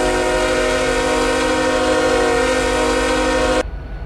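A loud Canadian Pacific freight locomotive horn in the Roblox game RO-Scale Sandbox blares in one steady, continuous chord for about three and a half seconds, then cuts off abruptly, leaving faint background noise.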